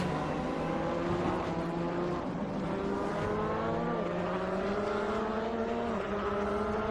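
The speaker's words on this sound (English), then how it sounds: "All 38 cars have decided to come through at once." Race cars pass in a dense multi-class pack at Petit Le Mans 2005: sustained engine drones with overlapping rising and falling pitches, steady and loud throughout, with no talk over them.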